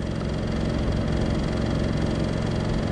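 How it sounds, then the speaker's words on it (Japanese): A Suzuki motorcycle engine, freshly restored with a new top end and carburetor setup, idles steadily at a slightly high speed, with a constant loud low rumble and no pauses. "感じ的には今アイドリングしますね。"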